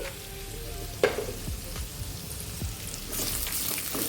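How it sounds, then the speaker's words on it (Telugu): Bitter gourd slices frying in hot oil in a kadai, a continuous crackling sizzle with a sharp splash as pieces drop in and a few clinks of a utensil, no speech. "ఆయిల్ వేడయ్యాక కాకరకాయ ముక్కల్ని వేసుకొని ఫ్రై చేసుకోవాలండి"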